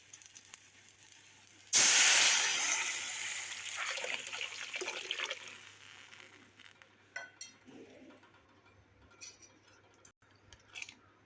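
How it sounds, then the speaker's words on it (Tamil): Rasam water poured into a hot pan of sautéed tempering and vadagam for a drumstick stem rasam sets off a sudden loud sizzling hiss that slowly fades into scattered soft crackles and bubbling. "இப்போ இந்த ரச தண்ணியை நம்ம அதோட சேர்த்து"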